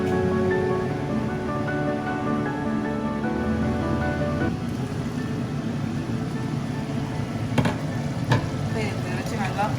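Deer meat curry simmers on medium flame in a covered pot, Jaffna style, giving a steady close bubbling and sizzling hiss throughout, with a couple of brief louder knocks near the end.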